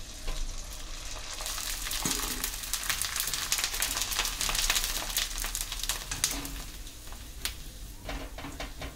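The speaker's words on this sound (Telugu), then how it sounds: "ఆయిల్ బాగా కాగింది. ఇప్పుడు మనం ఆనియన్ వడియాల్ని ఏంచుకుందాము." Onion fryums crackle and sizzle steadily in hot oil in a kadai, a dense close frying hiss with frequent sharp pops and no voices.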